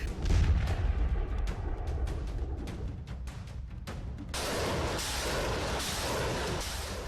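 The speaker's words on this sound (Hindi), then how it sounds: "दुश्मन के किले को तोपों के गोलों से ध्वस्त किया जा रहा है।" Heavy artillery fire from a Russian army tank division, deep booms thudding in close succession before giving way to a sustained, dense roar of shelling, loud and continuous with no voices.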